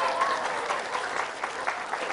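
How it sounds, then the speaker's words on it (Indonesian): An audience claps in steady, close applause on a TV show, a dense patter of many hands that holds at an even level for a couple of seconds. "Tepuk tangan sekali lagi dong buat Mas Faiz dong."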